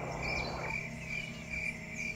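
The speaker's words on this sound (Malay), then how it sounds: "Yang kedengaran hanyalah bunyi angin dan cengkerik." Crickets chirp in steady repeated trills at night, a soft wind hissing underneath; quiet and continuous, with no voices.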